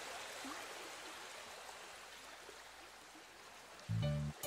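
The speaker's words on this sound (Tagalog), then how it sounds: "Mga bata, pagmasdan nyo ang daloy ng tubig sa ilog." River water flows in a steady, continuous rush close by, with no voices over it and a short tonal burst near the very end.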